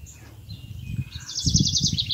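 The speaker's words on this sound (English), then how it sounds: "I love to hear all the birds singing." Birds singing outdoors among pines on a homestead, with a quick series of bright, repeated chirps rising over low background rumble, fairly close.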